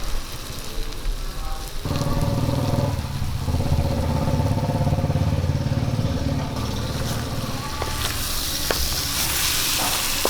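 Chicken curry sizzling loudly in a pan while being stirred, a steady dense frying hiss with scraping strokes and a few clicks of the spoon against the pot near the end.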